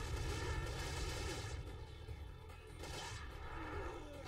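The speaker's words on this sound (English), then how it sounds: "Grenade, clear the Ganados out of the way" A grenade exploding in Resident Evil 4's Mercenaries mode with Hunk in the village, a quiet burst of dense, rumbling blasts with crackling debris settling under steady game noise, no talk.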